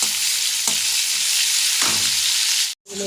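Garlic, with chillies and onion, fries in hot oil in a pan with a loud, steady sizzle, broken by a couple of stirring scrapes and a brief silence near the end.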